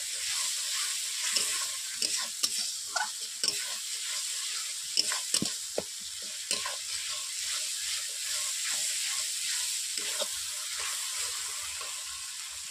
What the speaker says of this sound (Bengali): জল দেওয়ার পর এইভাবে আমি 5 মিনিট কষিয়ে নিচ্ছি মশলাটাকে